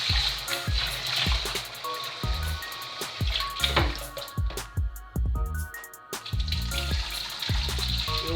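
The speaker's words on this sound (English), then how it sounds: "so we're going to wash the rice and then put it in" Raw rice is washed in a bowl of water for a seasoned rice dish, with steady sloshing, trickling and grainy swirling, and intermittent knocks and clatters against the bowl at close range.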